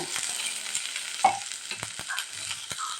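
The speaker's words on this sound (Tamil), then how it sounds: "எல்லாத்தையும் நல்லா மிக்ஸ் பண்ணிக்கலாங்க மிக்ஸ் பண்ணிவிட்டு ஒரு ரெண்டு நிமிஷம் வேகட்டுங்க" Onion, curry leaves and green chilli frying in oil for potato gravy while being mixed: a soft, quiet sizzle with a few brief scrapes and clinks of the spoon against the pan, no talking.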